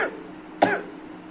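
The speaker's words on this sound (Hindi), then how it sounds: "मेरे को सांस के साथ खांसी आती है" One short, close cough from a person recovering from COVID, a quick burst rising out of a low steady hiss.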